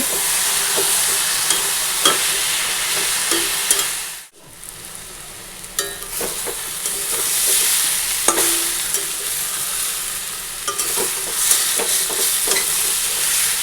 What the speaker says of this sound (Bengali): এখানে বাঁধাকপির ঘন্ট বসিয়ে দিয়েছি